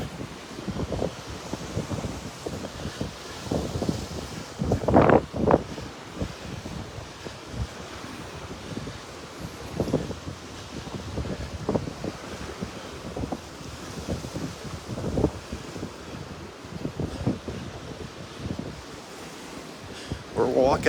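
Breezy wind and ocean surf on a Florida Gulf beach in North Naples at low tide on a cool morning: steady wind noise on the microphone with soft waves breaking repeatedly, a person talking now and then.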